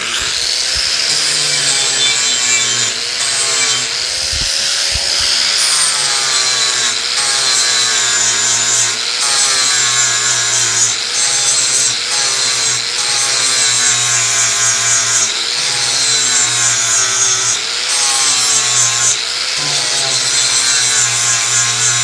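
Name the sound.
sanding excess weld off metal for finish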